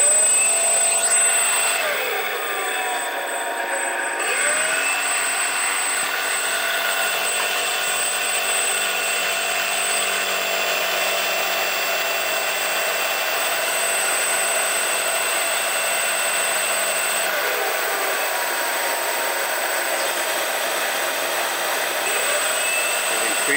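Small electric motor in a bench test rig running at a steady, loud whine with a constant high tone, shifting slightly as it speeds up to cruise, with no talking over it.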